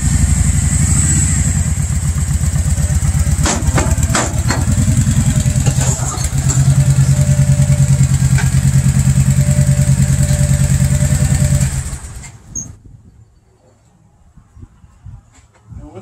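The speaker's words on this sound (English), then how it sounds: "And then we're ready to ride a motorcycle in there." A motorcycle rides into an Ironhorse one-bike flip-top trailer, its engine loud and close with a steady throbbing idle, a few sharp clanks and a rev along the way, then it cuts off near the end, leaving quiet.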